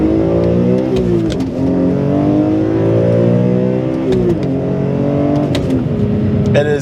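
A 2005 BMW E46 M3 with a straight-six engine revs hard and raucously under acceleration, climbing through repeated rising pulls with brief dips between shifts. The sound is close, loud and continuous.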